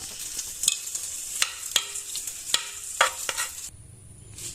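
Jackfruit erissery with curry leaves being stirred in a pan, giving close, repeated scraping clacks of a spoon at an uneven rhythm over a soft sizzle, which ends in a steadier hiss.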